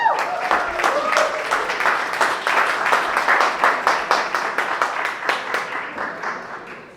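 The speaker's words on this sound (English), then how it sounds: "please give a huge round of applause for Kaan right now" An event audience applauds to welcome the speaker Kaan, with brisk, crowded clapping that starts strong, holds steady and then tapers off near the end, alongside some faint voice at the start.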